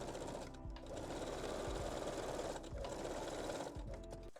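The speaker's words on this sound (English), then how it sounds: "Fold the elastic and stitch the opening again." A sewing machine stitches folded elastic on lingerie, running steadily at a fast, even whir with two brief pauses. The sound is close but fairly quiet, and no one speaks.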